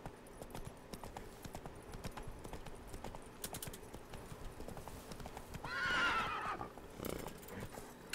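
Roach, a horse in The Witcher 3, clip-clops along at a steady trot over game ambience, then gives a loud whinny partway through before the hoofbeats carry on.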